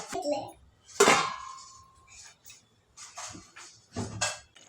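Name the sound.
lid taken off a pot of cooking vegetable curry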